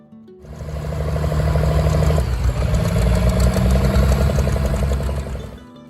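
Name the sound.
turbocharged diesel tractor engine idling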